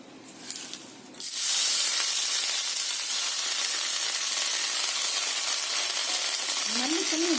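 Thoothuvalai leaves and coriander go into hot oil in a pan, setting off a loud, steady hiss and sizzle after a short quieter lead-in, with a faint clink near the end.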